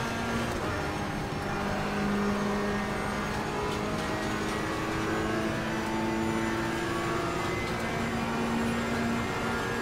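Race car engines in Assetto Corsa Competizione roar and whine at close range as a Porsche, a Ferrari and McLarens jostle in a multi-class online race at Watkins Glen, forming a dense, loud, continuous mix of overlapping engine notes.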